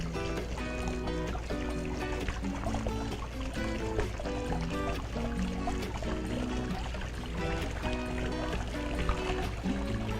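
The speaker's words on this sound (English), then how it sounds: "it's just starting to get a little trickle over there" A backyard pond waterfall starts to trickle, a faint steady stream of water running continuously with light splashing.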